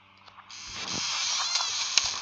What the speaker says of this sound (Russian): Дыхание, дыхание же слышно.